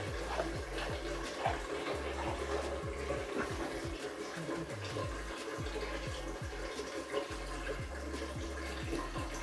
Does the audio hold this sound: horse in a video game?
no